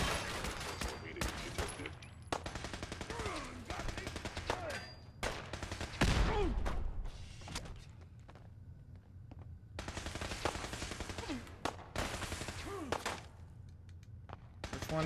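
Gunfire in the VR game Fallout 4, dense bursts of rapid automatic shots and single cracks in clusters, with a heavy thump midway and brief pauses between volleys.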